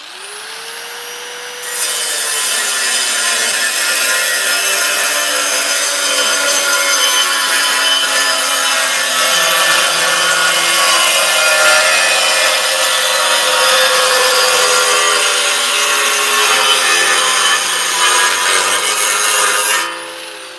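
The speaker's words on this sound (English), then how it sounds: "I cut this, and I'm just going to trim this off. Just scrap aluminum, nice and easy." A saw trims scrap aluminum in a shop, giving a loud, continuous bright grinding hiss that holds steady for about eighteen seconds and then cuts off, with no talking over it.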